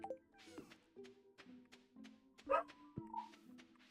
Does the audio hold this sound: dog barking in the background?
yes